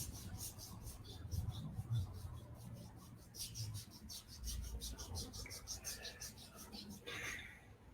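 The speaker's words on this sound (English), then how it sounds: "Maybe rubbing the forearms for some topical heat." Hands rubbing the forearms during a gentle movement class, a soft close swishing friction in repeated strokes under quiet background music.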